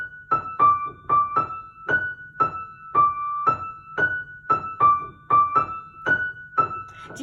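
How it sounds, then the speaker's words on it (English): High piano melody for a gospel-style interlude, played as single notes in a steady rhythm of about seventeen struck tones that each ring briefly and decay. Played alone, quiet and close. "Now let's listen to the melody first before we learn the entire thing."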